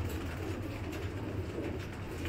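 Pigeons coo softly and steadily in a low murmur, a continuous flock sound with a faint rumble underneath and no talking.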